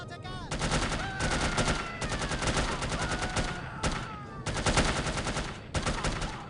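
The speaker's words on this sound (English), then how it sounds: "one of them was shooting through the curtain or whatever that was" Sustained automatic gunfire in the spy shooter No One Lives Forever, loud rapid bursts of shots with brief pauses between volleys, with a faint voice speaking underneath.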